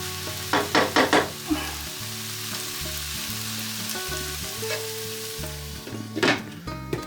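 Chicken paella with smoked paprika and turmeric sizzling in a pan, a steady close fry with bursts of stirring scrapes near the start and end over a looping musical background.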